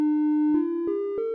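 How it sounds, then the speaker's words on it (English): A trapezoid waveform on the Copperhead iOS synth plays as a clean sustained tone, stepping up slightly in pitch three times with soft clicks at each change, isolated and moderately loud. "We have this one, which is a trapezoid"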